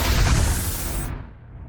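A deep booming explosion from a video game trailer, a loud low rumble that swells at the start and then decays into a fading roar.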